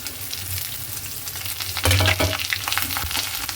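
Garlic frying in hot oil with dried red chillies for a chicken curry: a loud, continuous sizzle with a sharp flare of crackling about halfway through, and stirring noises on top.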